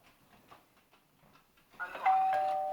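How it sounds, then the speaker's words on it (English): A soft electronic doorbell chime from a smart lock rings out after a few quiet, faint shuffling sounds, its tone sustaining and slowly fading. "Even has a little doorbell."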